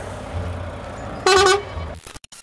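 A car horn honks once, loud and close for about a third of a second, over steady street traffic noise; the sound cuts off abruptly afterward.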